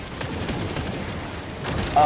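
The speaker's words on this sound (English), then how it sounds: "These fucking guys shooting at us." Enemy gunfire in Space Marine 2: rapid, repeated shots crackle at a steady pace through a dense battle din, loud and continuous, ending with a brief high tone.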